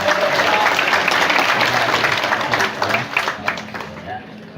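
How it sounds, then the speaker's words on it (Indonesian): Crowd applause at a school group exercise event with the district education chief at a senior high school, steady and dense clapping that thins out toward the end, with voices mixed in. "Luar biasa, tepuk tangan."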